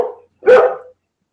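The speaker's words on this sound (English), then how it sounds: "dogs are going ape shit" Dogs bark in two sharp, loud bursts, a brief yap followed by a fuller bark after a short pause, with silence between and no talk over them.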